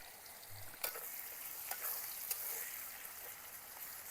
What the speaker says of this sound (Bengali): একই তেলে দিয়ে দেব, প্রথমেই দিয়ে দেব পেঁয়াজ কুচি